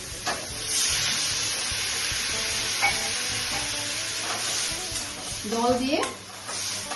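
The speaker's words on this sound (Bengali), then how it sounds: "আমি এখন জল দিচ্ছি" Water poured into a pan of hilsa fish head and tail curry sets off a loud, continuous sizzling hiss up close, with a few brief clanks and a short voice-like tone near the end.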